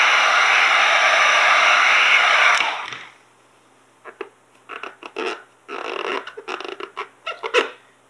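Heat gun warming vinyl graphics wrap on a Traxxas TRX4 body, a steady loud blowing hiss close by for about three seconds that then cuts off, followed by short scratchy rubbing and smoothing sounds.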